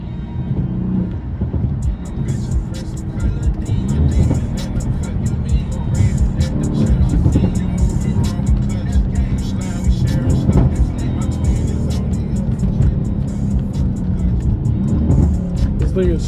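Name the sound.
Mercedes C63 AMG V8 car driving and accelerating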